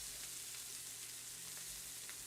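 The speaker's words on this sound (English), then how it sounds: "And this is why we wanted that pan nice and hot. Get that great sear on these." Pork chops sear in a hot pan, a faint, even frying sizzle with no voices.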